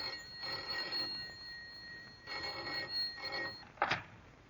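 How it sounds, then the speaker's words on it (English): An old-fashioned telephone rings in a 1952 radio crime drama, with two long ringing bursts separated by a pause and a short clunk at the end, heard alone without voices. "Yet the trouble first appeared as the commonplace ringing of a telephone."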